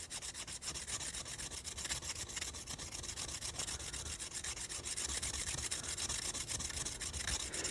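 Rusty scissors are sharpened by grinding the bevel, a quiet, rhythmic abrasive rasping of steel against a stone in repeated strokes, close up and without any talking.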